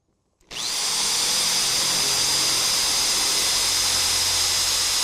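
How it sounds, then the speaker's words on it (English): A power drill starts abruptly and runs steadily at high speed, boring a hole from the top through a carbon fiber car hood for hood pins, a loud, close, continuous whine. "I'm going to drill from the top. This is going to make it a little bit easier and keep us from fraying our carbon fiber."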